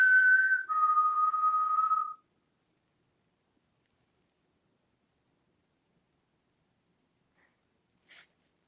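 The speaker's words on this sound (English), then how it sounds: "so I'm gonna whistle. Whistle right back" A person whistles a clear two-note call, a higher tone and then a lower held tone, lasting about two seconds. Silence follows, broken only by a faint, brief sound near the end, in a quiet room of an old mansion.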